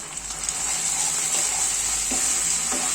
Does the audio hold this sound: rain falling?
no